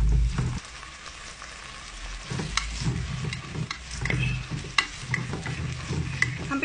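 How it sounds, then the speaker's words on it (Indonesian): Onion and dried shrimp sautéing in a Cuckoo multicooker, a gentle crackling sizzle with repeated spatula scrapes and taps close by. "Kak masukkan bawang dengan udang kering je."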